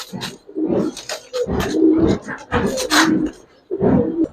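Coloring, silver and racer pigeons coo close by in a series of low, throaty rolling calls, several repeated in a steady rhythm with short gaps between them.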